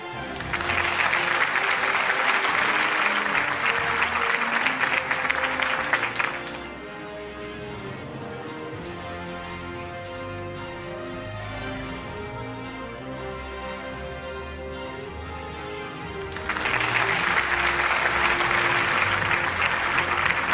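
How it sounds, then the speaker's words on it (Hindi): Audience applause at an annual city news network award show, loud dense clapping at the start, easing to a softer steady patter in the middle, then swelling back to full strength near the end, with no talk. "आपकी तालियां होनी चाहिए खातिन हज़रात"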